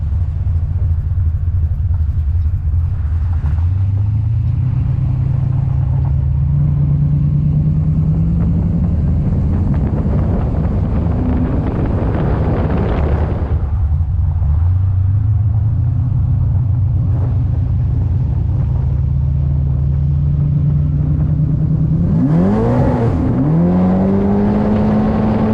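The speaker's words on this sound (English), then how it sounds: "we're gonna go take this thing for a spin" A naturally aspirated big-block V8 in a 1969 Camaro drives hard, with loud, close engine roar rising through the gears, a brief lift-off around the middle, then renewed acceleration and sweeping revs under heavy wind buffeting.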